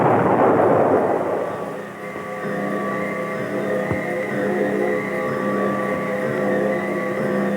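Roaring rush of an air defense missile launching from a U.S. Army ARADCOM site, a loud broadband blast easing into a sustained droning rocket roar with steady tonal hum.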